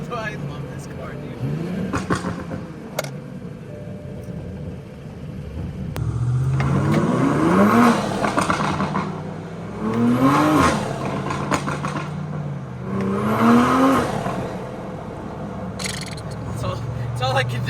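A Toyota Supra fitted with a cold air intake revs in sport mode, three strong rising-and-falling engine swells from nearby, with some talking between the revs.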